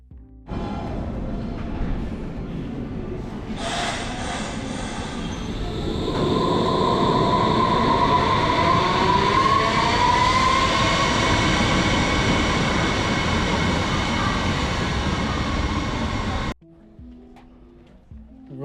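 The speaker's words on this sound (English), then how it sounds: "we're just waiting for the train to arrive" A train pulls into a Berlin station with a loud, close rumble that swells as it arrives. Wheels squeal and brakes whine through the middle, then the noise cuts off suddenly near the end.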